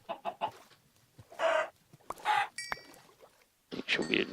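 Chickens in Minecraft cluck in short, close bursts, a few quick clucks followed by louder squawks spaced a second or so apart, with no talking.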